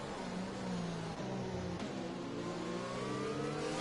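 Formula 1 racing car in a video game accelerating, a high engine whine climbing steadily in pitch through gear changes, continuous and fairly loud with no talking.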